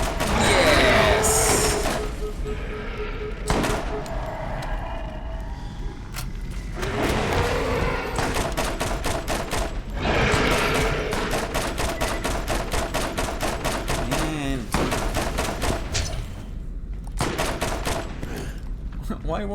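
Gunfire in the game Borderlands, continuous loud rapid shots and bursts with impacts, running almost nonstop under a voice talking.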